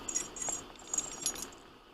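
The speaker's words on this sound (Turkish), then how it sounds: "Şöyle bir anahtarlığım var." A keychain holding a set of keys jangles in a few quick, light metallic shakes, close and fairly quiet, with no talking.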